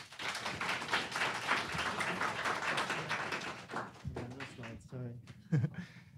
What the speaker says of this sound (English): So I'd like everyone to give a round of applause for Seth.